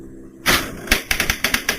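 A Coleco Adam computer's daisy-wheel printer printing, a loud burst followed by a rapid series of sharp, evenly spaced clacks, close and alone.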